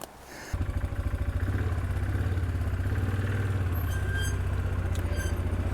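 An ATV engine in low range creeps slowly downhill with engine compression braking, a steady close chugging, throbbing idle-like rumble after a brief quieter start, with a few faint clinks on top.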